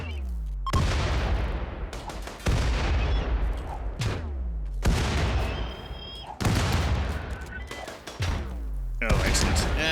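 Grenades exploding in Rimworld, about five heavy booming blasts spaced roughly two seconds apart, each decaying into a rumbling tail, with talk in between.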